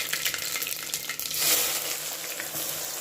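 Onions, mustard seeds and cumin fry in hot oil, a steady close crackling sizzle with a brief louder burst midway, no voices.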